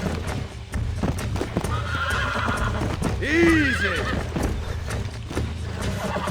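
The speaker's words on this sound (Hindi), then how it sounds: "भाई घोड़ा पकड़ना कितना हार्ड है भाई।" A horse in Red Dead Redemption on PC gives a loud, rising whinny midway through, with steady hoof clip-clop and game noise throughout, while someone talks over it.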